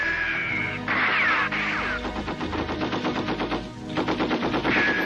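A heavy gun in the 1989 anime Angel Cop fires in sustained rapid bursts, loud and close, with brief pauses between strings of shots and no talk over it.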